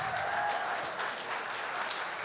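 Steady applause from an audience at a chamber of commerce gala, a dense even patter of clapping throughout.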